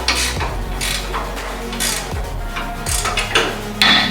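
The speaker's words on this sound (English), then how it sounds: "All right, let's tighten them up." Bolts being tightened on a 1969 Fastback Mustang, with a series of metallic ratchet clicks and clinks at close range, spaced in short irregular bursts over a low steady background hum.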